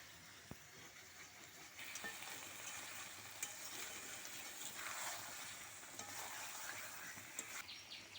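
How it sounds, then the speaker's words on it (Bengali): Chicken in spiced masala, for a yogurt chicken dish, fries quietly in a pan while being stirred slowly over low heat, a soft continuous sizzle with faint scraping strokes and occasional light clinks. "চিকেনটাকে আস্তে আস্তে এভাবে নাড়া দিতে হবে যাতে নিচ থেকে না লেগে যায়"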